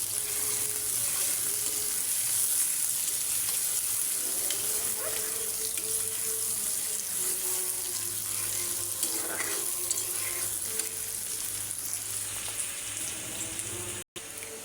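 Pabda fish curry with eggplant, garlic and green chillies frying in a home kitchen pan, a steady close sizzle with soft stirring scrapes running throughout, with no talking.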